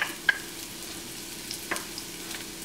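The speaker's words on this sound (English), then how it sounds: "We're going to saute them on a medium heat." Shallots, red onions, green peppers and cooked chickpeas sautéing in a pan on medium heat, a soft, low sizzle with a few faint clicks and stirring scrapes, fairly quiet and steady.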